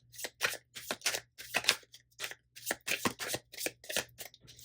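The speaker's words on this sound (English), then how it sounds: "I'm going to give it one more shuffle," A tarot card deck being shuffled by hand, a quick run of crisp riffling and slapping bursts at close range with no talk.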